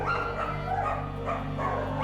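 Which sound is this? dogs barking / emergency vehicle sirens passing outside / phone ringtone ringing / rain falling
dogs barking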